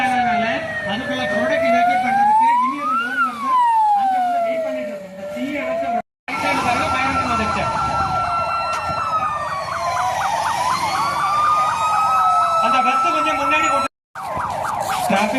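Ambulance siren wailing loudly and continuously during a Bharat Petroleum fire safety drill in Karur, its rising and falling tone close by with brief cutoffs and faint voices beneath.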